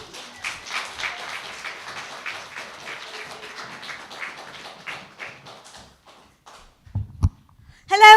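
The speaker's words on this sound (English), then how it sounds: "Round of applause." Audience applause at a comedy night welcoming a comedian, a steady ripple of many hands clapping for about six seconds that fades out, followed by a few isolated thumps and bumps close by.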